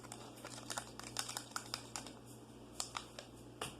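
Homemade slime being stirred in a bowl, giving soft, sticky crinkling and squelching clicks in an irregular rhythm, close up and fairly quiet, with no talking.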